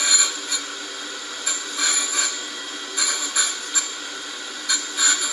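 A surface grinder rough grinds the backside of flipped metal parts, with a steady high hiss and repeated brief scraping bursts as the wheel passes over the high outer points.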